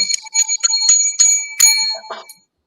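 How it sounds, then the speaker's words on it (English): Bells ringing in a quick series of bright, close strikes, each leaving a short metallic ring, before trailing off into silence. "Now, James, go with the bells."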